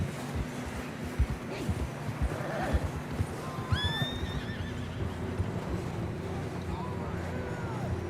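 Video game horses whinny and snort twice over a steady background rumble, with hooves and faint movement noise; the neighs sound fairly close.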